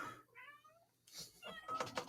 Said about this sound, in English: Should we get rid of these cats?